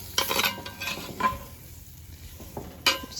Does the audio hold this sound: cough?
no